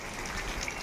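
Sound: rain falling in a village

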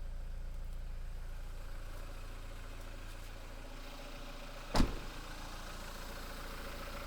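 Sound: Renault Trafic 2.0 engine idling

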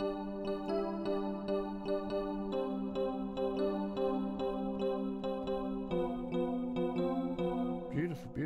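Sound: Digitalism 2000 retro synthesizer app on iOS playing

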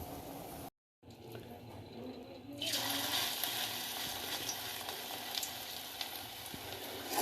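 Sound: frying battered pieces in oil

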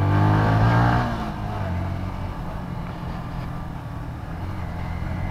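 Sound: motorcycle engine revving while doing a wheelie

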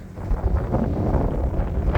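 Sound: strong wind on frozen lake during ice fishing

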